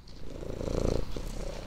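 Mounette the cat purring close by, a steady low rumbling purr that swells and continues throughout without pause.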